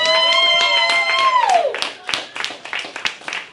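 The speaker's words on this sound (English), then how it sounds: "Somebody clap your hands" An audience at a hypnotist's Christmas party show claps hands, scattered sharp claps rising under a sustained cheer or voice early on, then continuing in uneven bursts.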